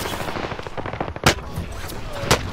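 Video game gunfire rattles in quick automatic bursts, with two sharper, louder shots standing out above a constant backdrop of distant shooting and battle noise.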